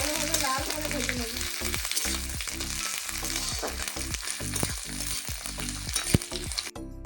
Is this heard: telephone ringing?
no